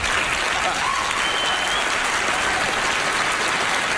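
Sustained audience applause fills a stage show of magician Ben Seidman on Penn and Teller Fool Us, steady and dense throughout without a break.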